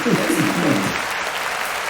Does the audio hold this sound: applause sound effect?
yes